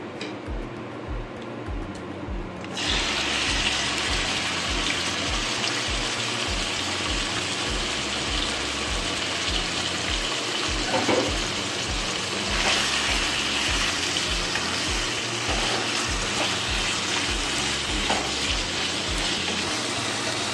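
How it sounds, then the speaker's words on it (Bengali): Chicken pieces hit hot white oil in a kadai after a few quiet seconds, bursting into a loud, dense, steady sizzle that carries on unbroken with no voices. "কড়াইতে আমি 3 চামচি সাদা তেল দিয়েছি। এবার চিকেনটা আমি একটু ফ্রাই করে নেব।"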